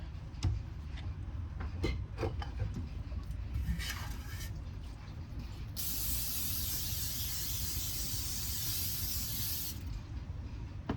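A short burst of cooking spray hisses steadily onto a pizza pan for about four seconds, preceded by light clicks and handling noises in a quiet room.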